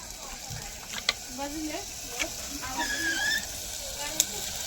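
Garlic-ginger paste and turmeric frying in a pan for a mutton curry, a steady close sizzle with stirring clinks, under a woman's speech.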